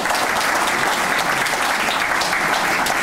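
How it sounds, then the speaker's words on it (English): Dense, steady audience applause fills a hall at a medical devices grant event as a recipient is called forward, loud and continuous with no speech over it. "Give him a round of applause."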